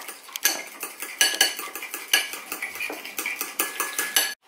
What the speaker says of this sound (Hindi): तो ये अंडा एक लिया मैंने इसको फेंटूंगा